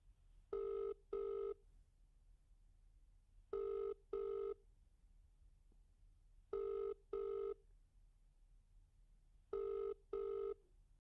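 A telephone ringing in repeated double rings, four pairs evenly spaced with quiet pauses between, clear and close with no talk.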